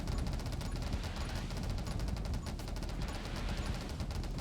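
Dual SMGs firing nonstop in 20 Minutes Till Dawn, a dense, rapid rattle of shots running steadily through the whole stretch without pause.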